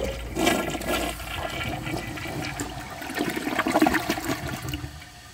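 A 2007 Kohler Highline Ingenium toilet flushes a washcloth, with a loud close rush of water that swirls, dips briefly, then surges again before draining away, with no talk.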